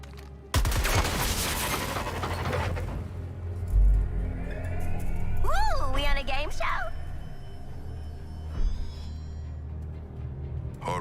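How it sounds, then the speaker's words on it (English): Rapid burst of gunfire in the Suicide Squad video game as a junction box is shot, a dense volley of loud cracks up front, followed by rumbling, whooshing game effects and rising electronic tones. "Might be able to get up top if we shoot the junction box."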